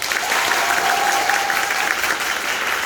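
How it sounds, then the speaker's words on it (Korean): Warm audience applause during a stage greeting after a performance of the musical King Arthur, a steady, dense wash of clapping throughout, with a faint tonal hum beneath. "따뜻한 박수 부탁드립니다"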